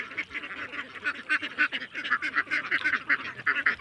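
A flock of farm ducks quacks continuously and loudly nearby, overlapping harsh calls in a steady, busy chorus with no talk.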